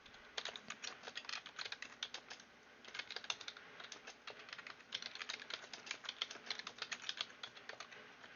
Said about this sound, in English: I'm typing in Kong chat now, looking for a guild.